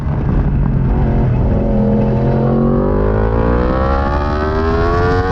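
A racing motorbike engine screams loudly and close during a race, its pitch climbing steadily as it accelerates through the gears without a break.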